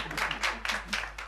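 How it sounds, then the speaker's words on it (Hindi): A small group applauds to welcome a new member, giving a short burst of clapping in uneven waves that lasts only a moment. "तालियां!"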